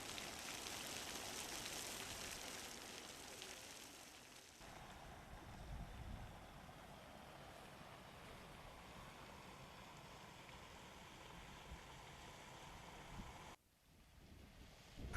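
Near-boiling hot spring water flows constantly in the Nevada desert as a faint, steady watery rush with a soft breezy hiss, a short dropout near the end and no talk.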